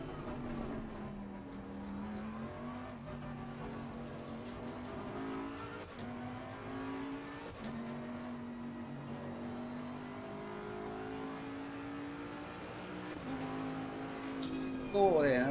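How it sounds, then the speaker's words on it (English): A Porsche race car engine in the Assetto Corsa Competizione sim racing game drones and revs continuously, pitch rising and falling through gear changes, with talk intermittently over it. "Another Porsche behind me."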